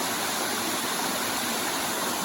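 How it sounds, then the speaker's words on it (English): A natural waterfall on an Appalachian creek pours in a steady, loud, unbroken rush of falling water, with no voices over it. "This is a natural waterfall, so they look at the waterfall, they didn't dam it up."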